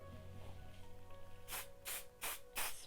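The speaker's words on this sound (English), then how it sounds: "Spray that in place." Hairspray is sprayed onto a wig updo in four quick, fairly faint hissing bursts in a row over a low background hum.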